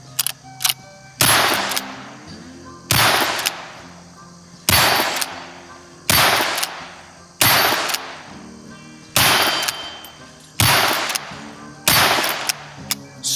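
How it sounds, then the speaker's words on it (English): Loud, sharp gunshots from a Henry lever-action rifle chambered in .17 HMR, about nine evenly spaced rounds fired downrange, each crack followed by a short ringing decay, with no talking. "I've got it loaded up here, so let's turn around and put some rounds downrange."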